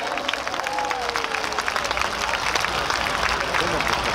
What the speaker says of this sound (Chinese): 我们再次以最热情的掌声，谢谢蔡子琪 Natalie